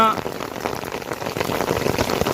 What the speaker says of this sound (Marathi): पहुडसह परिसरात मुसळधार पावसास सुरुवात झाली आहे